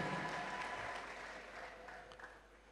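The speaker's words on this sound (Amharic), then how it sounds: "እስቲ ምስጋና ይህን ላደረገ ለእግዚአብሔር ከፍ ያለ እልልታ፣ ከፍ ያለ ምስጋና።" A church congregation ululating and cheering in praise, a dense, loud wash of crowd noise throughout, fading slightly toward the end.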